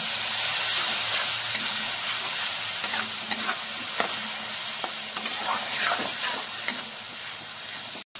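Masala with Kashmiri chili powder fries and is stirred in a pan, a dense continuous sizzle and hiss with scattered scraping stir strokes, close and loud, steady throughout with no voices.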